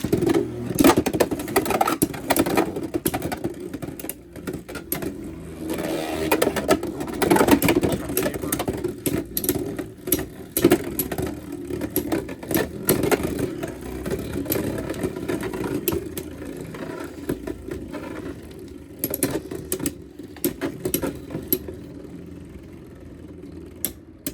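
Beyblade X spinning tops, Circle Ghost against Chain Incendio, battle in a plastic stadium with a steady, dense whirring grind and rattling clashes that stay loud throughout.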